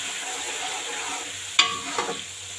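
A soft, steady sizzle of spices frying in a pan with a little water, with a sharp metallic clink from a spoon midway and a lighter stir after.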